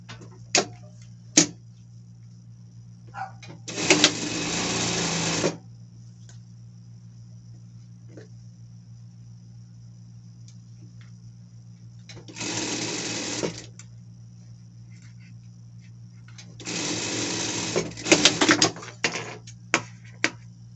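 A sewing machine hems a trouser pocket in three separate bursts of rapid stitching, one about a second and a half long, a shorter one, and a longer final run, with quiet clicks and handling between them.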